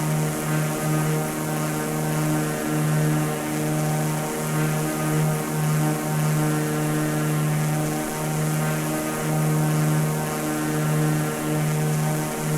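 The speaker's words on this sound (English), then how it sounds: "So certainly a different sounding aircraft than the Cessna that we've flown before." A propeller aircraft engine in Microsoft Flight Simulator drones steadily and loudly throughout, with a constant buzzing hum and no talking.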